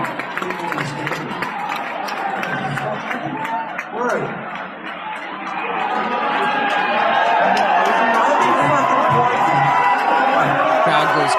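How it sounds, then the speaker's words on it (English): A concert crowd cheering and shouting in playback, a dense roar of many voices that swells louder and fuller toward the end, with some nearby talk mixed in early on. "Crowd goes crazy."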